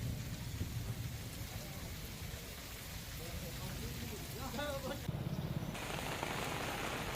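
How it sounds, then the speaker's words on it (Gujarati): Heavy rain pours with strong wind and rumbling thunder in Kenedy village, Kalyanpur taluka, Dwarka district, Gujarat: a dense, continuous downpour with low booming rumbles and a brief voice-like sound partway through. "કેનેડી ગામમાં ભારે પવન, ગાજવીજ સાથે વરસાદ વરસી રહ્યું છે."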